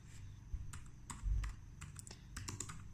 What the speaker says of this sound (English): I can type in whatever I want here.